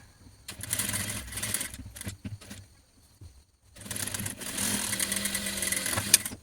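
Sewing machine stitching fabric while a top is being made: two bursts of motor whirring, separated by a quiet pause, at moderate loudness with no talk.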